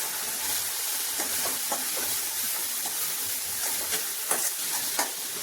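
Goat head curry sizzles and sautés with curry powder in a pan, a steady, dense hiss of frying with scattered pops and stirring scrapes, close and constant without talking.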